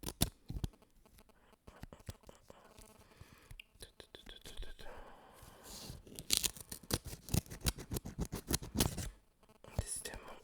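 Scissors cut and tear at the packaging of a Michael Jackson collection being unboxed, with crinkling and snipping in irregular bursts, close and fairly soft, under intermittent whispering.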